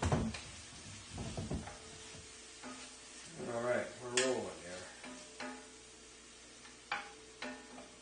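Mushrooms going into a hot pan for chicken pot pie, with soft sizzling, scraping stirs and a few utensil knocks, close and fairly quiet.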